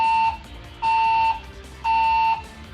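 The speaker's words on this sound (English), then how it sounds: "An alarm has been reported in the building." A building fire alarm sounds three long, steady electronic tones of about half a second each, separated by short gaps, loud and close, with no voices.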